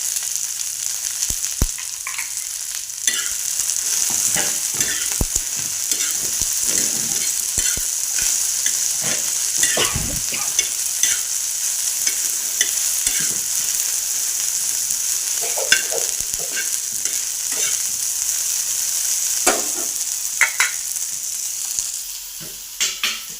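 Salt, turmeric, green chili and garlic sauté steadily in a pan, a continuous frying sizzle with frequent scraping stir strokes running throughout, close and moderately loud with no talking.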